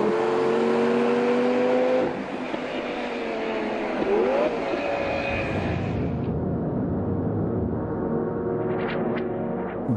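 A Lamborghini Gallardo V10 revs hard while drifting, a loud rising and falling engine crescendo that cuts off abruptly partway, leaving lower rumble and scattered mechanical sounds.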